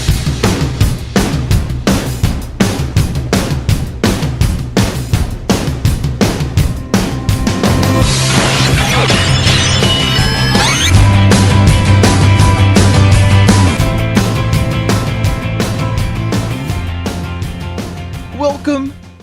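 A rock song plays loud and full: driving drums and guitars with sung vocals, building to a sustained section before trailing off at the end.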